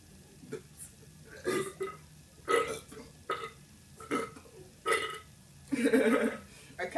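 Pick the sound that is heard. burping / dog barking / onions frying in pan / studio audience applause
burping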